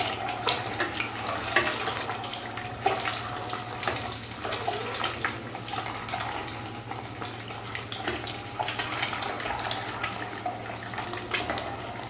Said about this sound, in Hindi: इसके बाद हम कढ़ाई में अंडों को डालेंगे ताकि अंडा करी बनने के लिए अच्छे से फ्राई हो जाए।